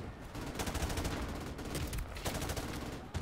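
Sustained, dense gunfire from the video game Modern Warfare Remastered, loud, continuous rattling bursts with brief dips, no voices over it.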